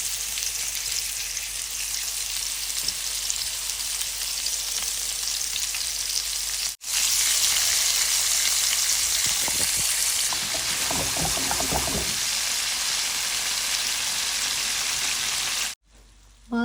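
Small fish fry in very little oil with a loud, continuous sizzling hiss, briefly cut off twice, with occasional stirring scrapes mixed in.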